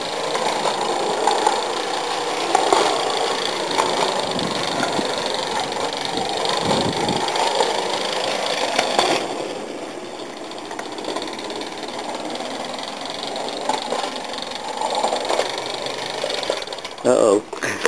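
A model steam engine runs on its first outing in 30 years, giving a steady mechanical chugging hum that stays close and continuous, with a slight drop in level midway and a few clatters near the end.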